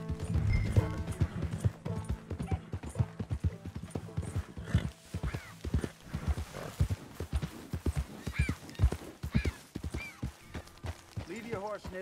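Rhythmic horse hooves clip-clop steadily with a neigh near the start, from the video game Red Dead Redemption 2, continuous while voices talk over it.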